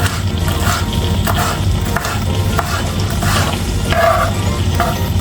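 Food sautéing in a pan for imbaliktad, a steady close sizzle with repeated scraping stirs of a utensil against the pan throughout.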